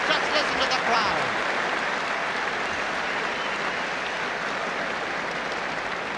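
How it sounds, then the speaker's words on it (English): Crowd at a 1978 All-Ireland Senior Hurling Final between Cork and Kilkenny applauds and roars at half-time, a dense, sustained wall of clapping and cheering that carries on without a break. "at half-time, just listen to the crowd"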